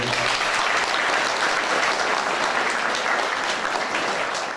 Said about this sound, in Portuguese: pedimos, então, uma salva de palmas para toda a mesa